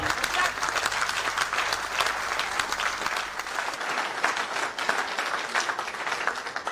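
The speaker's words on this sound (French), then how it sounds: "Et donc pour cette raison, applaudissons Paul Ella." A large audience at an awards ceremony applauding steadily, many hands clapping together in a dense, continuous wash of sound.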